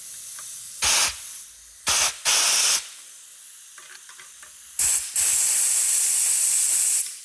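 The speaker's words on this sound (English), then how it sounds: "And then I blow it through with the compressed air." Compressed air blows through cleaned parts in sharp, loud hissing blasts: several short bursts, then a longer sustained blast near the end, with quiet gaps between.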